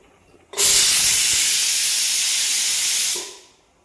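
Dough steaming in a pot on a home kitchen stove while making shankarpali, giving one loud, steady steam hiss that starts abruptly, holds for about two and a half seconds and then tapers off.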